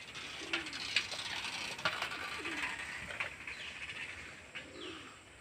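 Pigeons being kept and flown as a hobby give soft, low coos scattered over a few seconds, with faint chirps and rustling against a steady outdoor background hiss; no one talks.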